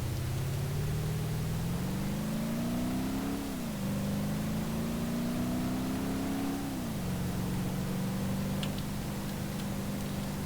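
A Grand Marshal car's engine in the BeamNG.drive driving simulator accelerates steadily through several gear shifts, its drone rising in pitch, dropping at each shift, then rising again, constant and fairly loud over a hiss of background noise.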